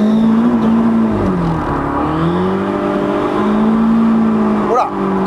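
During a drift lesson, a car engine is held at high revs before the clutch is kicked. It gives a loud, sustained drone that briefly dips and climbs again, heard close and unbroken.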